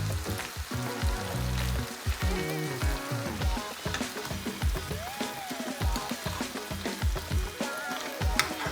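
A steak simmers at very low heat in pizzaiola sauce with anchovies, giving a continuous crackling sizzle full of small pops, close and fairly loud throughout, with background music playing underneath.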